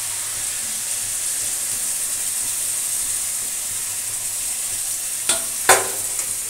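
Spice powder paste frying in hot oil gives a steady, close sizzling hiss, with two sharp scraping clinks of a stirring spoon near the end; no talking.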